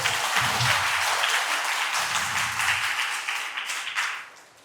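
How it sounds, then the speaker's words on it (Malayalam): A congregation at a Christian ministry gathering claps together in full, even applause that carries for a few seconds before tapering off, heard alone and fairly near. "കൈയടിച്ച് നന്ദി പറയട്ടെ"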